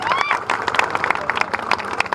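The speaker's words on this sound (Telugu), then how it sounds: "గట్టిగా చప్పట్లు కొట్టినాయి గద్దరన్నకు" An audience applauds for the folk singer Gaddar, with steady clapping and some crowd noise running through the whole stretch, fairly loud and close.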